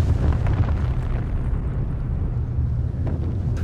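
A deep, rumbling blast of hand grenades in a war film about the Second World War liberation of eastern Slovakia, loud and boomy with a sustained low roar, and no talk.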